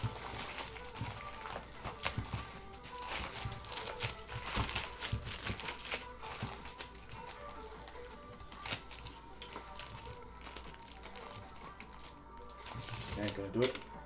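Sculpting clay is scooped out of a crinkling plastic bag, giving a steady run of soft crackles, rustles and sticky handling noises close to the mic with no talk.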